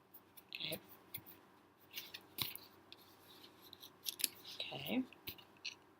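Oracle cards being shuffled and drawn for a reading: quiet papery snaps, flicks and slides in irregular bursts, close to the mic, with faint voices murmuring underneath.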